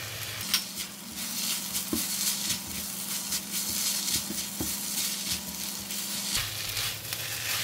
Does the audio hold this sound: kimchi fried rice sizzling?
yes